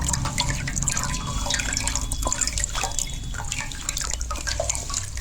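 Water drains through a strainer, leaving coconut pulp caught behind, with steady trickling and dripping close by and no voices.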